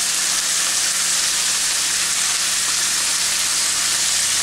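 Red and green bell pepper strips fry in a hot pan for Chinese-style pork with bean sprouts, giving off a steady, loud, close sizzle and hiss that stays even and continuous.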